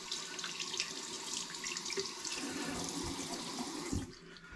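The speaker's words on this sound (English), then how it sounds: "wash the face." Steady running water from a sink tap fills the space while a face is washed, a close continuous splashing wash with small shifts in tone, cutting off near the end.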